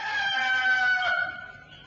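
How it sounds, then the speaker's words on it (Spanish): A rooster crows once in a single long, loud, near call that rises and then trails off, with no other sounds around it. "El gallo Pinto."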